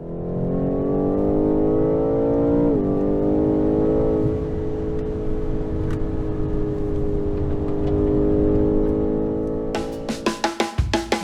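A 2020 BMW M8 Competition Coupe's engine revs hard and steadily on the Portimao circuit, loud and close with rising and falling pitch, ending in a burst of sharp crackling pops.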